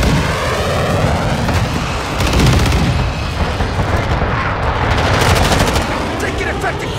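Dense, continuous gunfire in Call of Duty: Modern Warfare 2, with rapid automatic bursts and booming blasts filling the whole stretch at close range and high volume, and faint radio-style voice callouts mixed underneath.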